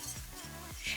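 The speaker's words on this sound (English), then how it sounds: "As we're whisking," A whisk stirring a blonde roux of butter and flour in a pan, soft rhythmic scraping strokes over a faint steady sizzle, close and fairly quiet.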